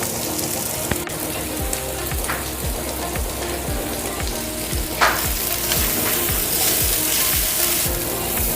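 Vegetables with sweet corn, pepper powder, red chili flakes and mixed herbs sauté in a pan for creamy white-sauce macaroni, a steady close sizzle with regular scraping stirs throughout and no talking.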